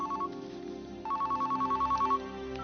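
A telephone ringing, a steady electronic ring tone pulsing in quick regular bursts, loud and close, broken by a short pause before the next ring.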